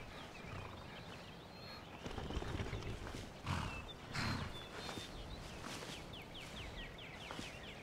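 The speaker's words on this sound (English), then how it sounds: "We can hear a horse." Faint hoof clip-clops of horses walking in Skyrim Special Edition amid a busy ambient backdrop with scattered chirps and occasional thumps, fairly quiet overall.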